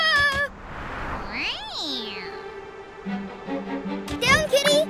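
A cat meows in a few rising, sliding cries, mixed with animated voices and scattered sounds from a lively cartoon-style scene.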